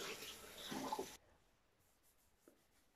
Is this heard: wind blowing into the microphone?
no